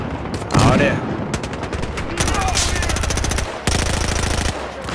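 Loud, close gunfire in the video game Battlefield Hardline: a single sharp shot, then long rapid automatic bursts from a machine gun broken by a short pause.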